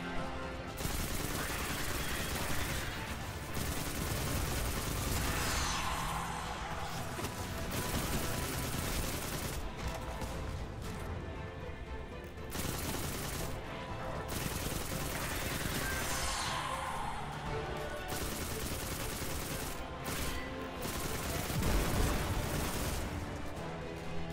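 Sustained gunfire in the video game Destiny 2, loud rapid bursts and automatic fire repeating in waves with brief pauses, dense and close throughout, with occasional voices.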